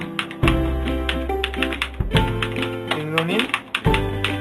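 A computer keyboard is typed on in short, quick bursts of clicky keystrokes while a name is entered in MS Word, with a voice talking over the tapping throughout.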